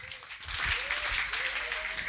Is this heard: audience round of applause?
yes